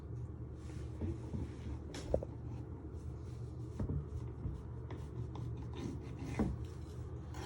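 A sharp knife trimming the edges of shortcrust pastry for a chicken curry pie, soft continuous rubbing and scraping strokes going round the dish, faint and close with a few light knocks.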